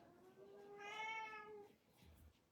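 A house cat meows in a long drawn-out call that rises and falls, close and clear over a quiet room, followed by a brief softer sound.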